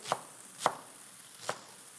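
A kitchen knife cuts leeks on a cutting board with three crisp, separate chops spaced unevenly, close and fairly quiet, with no voices.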